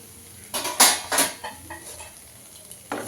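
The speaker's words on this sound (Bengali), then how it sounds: "এবার একটু নাড়িয়ে চাড়িয়ে নিচ্ছি, ভালো করে রান্না করে নিচ্ছি।" A spoon scrapes and clinks against a pan while boiled pointed gourd and other vegetables are stirred, with a few loud close knocks and scrapes and then softer, scattered stirring sounds.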